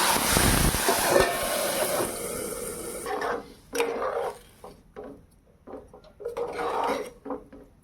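A loud burst of hot oil tempering poured over fish, sizzling and hissing then dying down after a few seconds, followed by scattered knocks and clatter of utensils.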